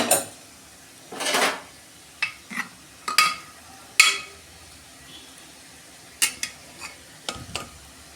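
Spice paste for cabbage dal sautéed in a pan, heard as a quiet pan with intermittent scraping strokes and light metallic clinks from the spatula. The strokes come in uneven bursts over a faint background with no talk.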